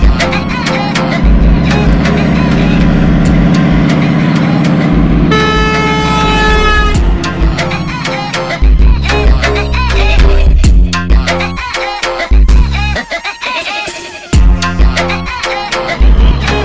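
A truck's air horn blasts repeatedly, loud and close, in long and short pulled toots mixed with truck engine noise and a few sharp bangs.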